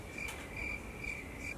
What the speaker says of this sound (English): I was just waiting for the crickets